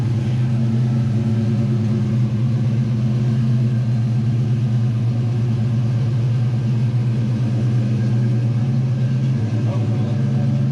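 Ford Foxbody Mustang with a manual clutch and R12 air conditioning, driving with the engine running: a steady low rumbling drone throughout, with people talking over it.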